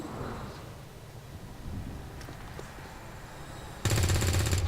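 Gunfire at an alien in the XCOM 2 video game: a dense, loud burst of rapid shots erupts near the end after quieter ambient rumble.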